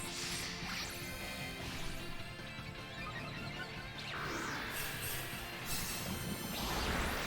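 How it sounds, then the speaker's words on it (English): A water-type move lands in a Pokemon Violet Tera Raid battle: a steady rush of splashing game effects with a swooshing burst near the middle, continuous and moderately loud, without voices. "there's the water type move I was talking about"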